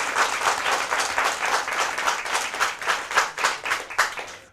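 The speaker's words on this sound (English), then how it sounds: "A round of applause for Sasha." Audience applause for a contestant at a school math championship quiz, a moderately sized room of people clapping in a brisk, uneven patter that holds steady and tapers off at the end.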